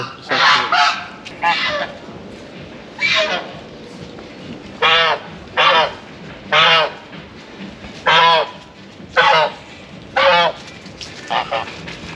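Geese and ducks honk loudly and repeatedly in close, irregular bursts of harsh calls, with short pauses between them, at a covered bazaar in Tabriz, Iran.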